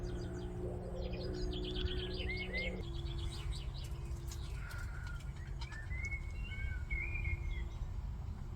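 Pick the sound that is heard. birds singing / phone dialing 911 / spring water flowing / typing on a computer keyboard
birds singing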